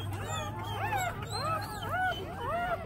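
A litter of eleven Double King Quattro puppies whimpers and yips in a chorus of rising, falling cries, several voices overlapping close by over a low steady hum.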